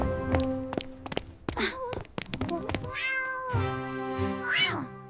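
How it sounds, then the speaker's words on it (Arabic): A cat meows repeatedly up close, several drawn-out, rising and falling cries mixed with soft thuds and taps, filling the short stretch with steady loudness. "يا سليم، هنعمل ايه مع القطة دي؟"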